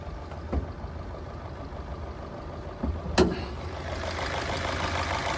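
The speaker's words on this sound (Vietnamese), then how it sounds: "Xe đang trong tình trạng nổ máy." Engine of a 2009 Chevrolet Lacetti CDX 1.6 automatic sedan idling with a low, quiet, steady hum, a single sharp click near the middle, no speech.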